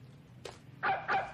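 Small dog giving a short yip followed by two quick, sharp barks, close and fairly loud.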